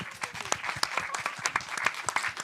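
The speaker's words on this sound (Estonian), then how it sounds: "teeme Anetile ka suure aplausi." An audience at a volunteering fair panel in Estonia applauds the panel moderator, giving a dense, steady burst of clapping from many hands that fills the room, with no voices over it.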